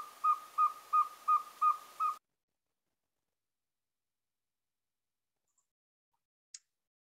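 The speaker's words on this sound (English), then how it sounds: "This is the Boreal Owl." Boreal Owl call: a rapid, evenly spaced series of six hollow, whistled hoots lasting about two seconds, clear and isolated against silence, followed by quiet with one faint click.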